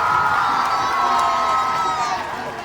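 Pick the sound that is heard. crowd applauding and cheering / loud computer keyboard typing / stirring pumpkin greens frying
crowd applauding and cheering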